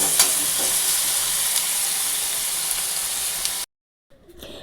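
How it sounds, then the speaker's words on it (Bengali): Marinated soybean chunks frying in spiced masala give a loud, steady sizzle with a few stirring scrapes, which cuts off abruptly before a faint, quieter hiss returns. "এরপর এখানে যে ম্যারিনেট করা সোয়াবিনটা আছে আমি এর মধ্যে দিয়ে দেবো"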